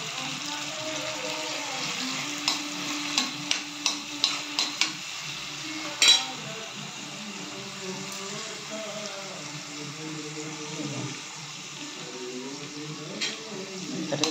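Crushed green chillies sautéing in a little oil in a pan, a steady soft sizzle under repeated stirring, with a run of spoon taps against the pan and a voice speaking faintly in the background.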